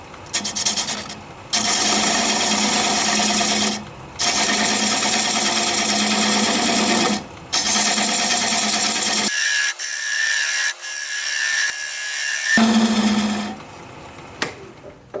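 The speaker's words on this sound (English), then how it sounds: "I'm going to take my 5/8 or 3/8 inch bowl gouge and commence to removing that tenon." A bowl gouge cutting acacia wood on a lathe spinning at about 600 RPM, a steady loud buzzing scrape in long passes with brief pauses between cuts, close by and without talk.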